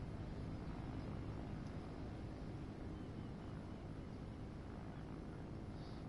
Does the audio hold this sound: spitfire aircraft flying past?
yes